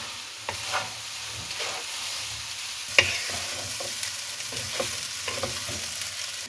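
Cooked rice is mixed into a vegetable stir-fry in a pan for chicken chilli egg fried rice, with a low frying sizzle broken by repeated spatula scrapes and knocks, one sharp clank near the middle.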